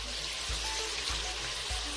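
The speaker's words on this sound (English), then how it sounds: "it's browning this bacon beautifully" Bacon browning in an Instant Pot on the saute setting, a steady soft sizzle and crackle of fat with faint low thumps underneath.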